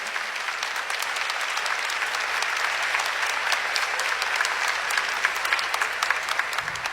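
A church audience applauds steadily at a Catholic gathering, a dense, even wash of many hands clapping that holds at a constant level for about seven seconds with no talk over it.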